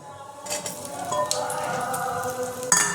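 Potatoes frying in a pan for a Bengali-style bori, potato and tilapia dish: a steady hiss of sizzling starts abruptly and continues, with a light clatter of stirring near the end, no voices.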